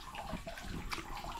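Water flows steadily at Magnetic Springs in Eureka Springs, Arkansas, a continuous close splashing rush with no talk over it.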